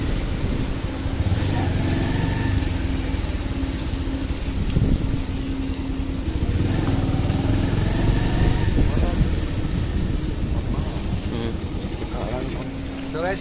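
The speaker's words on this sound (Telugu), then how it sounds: "మనం బైక్ అయితే పార్క్ చేసేద్దాం." A motorcycle engine idles with a loud, steady low rumble as the bike is parked at a restaurant building, holding a constant drone for the whole stretch.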